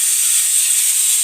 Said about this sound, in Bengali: একটু চিড়ে ভেজে রাখছি